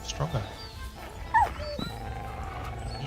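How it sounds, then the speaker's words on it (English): A dog whimpers and gives short yips in the video game Kingdom Come: Deliverance 2, thin whining cries rising and falling over game background sound, moderately loud and close. "That was my dog."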